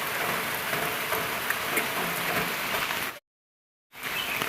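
Heavy, unbroken rain pours down near a forest stream, a dense steady hiss that fills the air, then drops out for a moment near the end before resuming.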